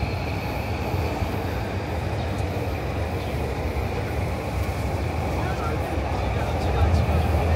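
A train rumbles along an elevated track overhead near Yurakucho station in Tokyo's Marunouchi area, a steady broadband roar with road traffic running beneath, continuous and fairly loud throughout.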